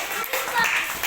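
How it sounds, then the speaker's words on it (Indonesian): Classmates in a school classroom clap for a discussion group, a short, fairly soft patter of hands mixed with talking voices. "tepuk tangan untuk kelompok 2"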